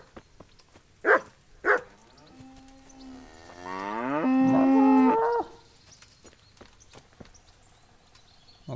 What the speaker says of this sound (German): Okay. Eine Kuh.